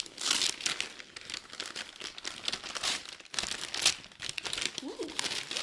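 Penguin-print Christmas gift wrapping paper is torn and crumpled open in a steady run of loud, close crinkling and ripping, with brief pauses between bursts.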